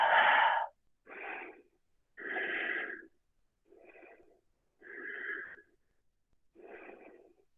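Slow, deep yoga breaths alternate between inhales and exhales, six distinct wheezy breaths close to the microphone with short silent gaps between them.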